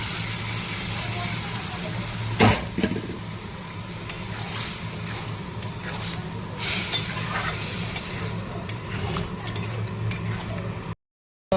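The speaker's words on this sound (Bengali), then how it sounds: "এবার দিয়ে দেবো সেদ্ধ করে রাখা তরকার ডালটা।" Boiled lentils being stirred into a hot tempering pan with turmeric and chilli powder, a steady sizzle and fry under repeated scraping and clinking stir strokes, close and continuous until a brief cut at the end.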